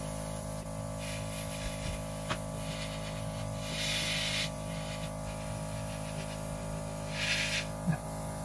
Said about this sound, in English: I get pretty close when I'm doing this so that my spray is directed on just that area.